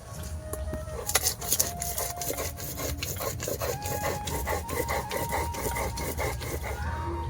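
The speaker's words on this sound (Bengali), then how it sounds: "একসাথে কাঁচা লঙ্কা শিলনোড়ায় বেটে নেব" Black and white mustard seeds and green chilies are ground on a stone slab, giving steady, close, rhythmic rubbing and scraping strokes with small knocks, and a voice briefly in the background.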